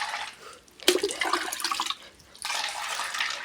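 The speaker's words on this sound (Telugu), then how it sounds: "మంచినీళ్ళు వేసానుకో మట్టి అంతా బయటకు వచ్చేది అన్నమాట." Fresh water splashes over small soil-covered sprouts to rinse them, with a sharp splash near one second followed by steady pouring and trickling that briefly eases before picking up again.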